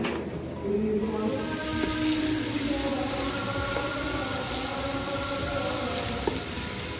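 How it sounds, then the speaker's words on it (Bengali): Chicken roast cooking in a very large frying pan, with a steady, close sizzle and crackle of frying that runs the whole time, plus a few light knocks and stirring sounds. "এটার ভিতরে আজকে আমি চিকেন রোস্ট রান্না করব।"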